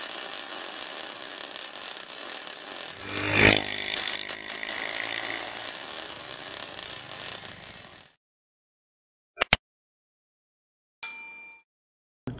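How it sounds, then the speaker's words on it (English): Small gas engine of a Coleman CC100X 3 hp mini bike with a Mikuni carburetor running steadily close by for about eight seconds, a brief rev in the middle, then cutting off, followed by short clicks and rattles. "Let's go see what this micro bike will do."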